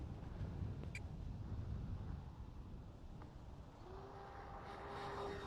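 An FMS T-28D V4 radio-controlled model airplane flying touch-and-goes and landings in a strong wind, its propeller engine a steady distant drone under heavy wind noise, with a thin rising whine near the end.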